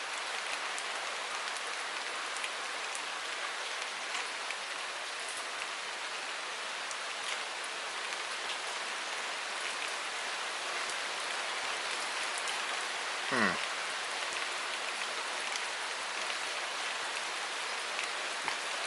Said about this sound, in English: It's raining pretty hard.